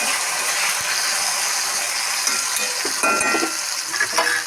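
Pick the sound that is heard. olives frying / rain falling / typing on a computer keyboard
olives frying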